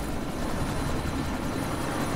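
Helicopter in the video game Deus Ex: Mankind Divided, a steady, loud rotor and engine drone that fills the whole short stretch without a break, with no voices over it.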